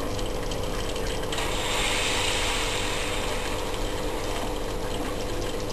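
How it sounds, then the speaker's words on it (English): A homemade vacuum pump built with a water-filled setup runs continuously, giving a loud, dense mechanical churn with a gurgling, liquid quality and a steady rhythmic ratcheting texture that barely varies in level. "Start the vacuum pump."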